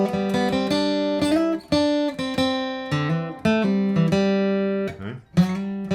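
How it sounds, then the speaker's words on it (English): Acoustic guitar playing a riff, with four-to-five slides and open-string pull-offs. Clear plucked notes ring out one after another in a steady, bouncing pattern, close and alone. "Now we do 4 to 5 slides, so I'll just play the riff first. It sounds like this."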